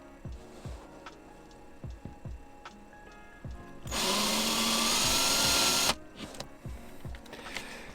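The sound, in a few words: power drill pre-drilling screw holes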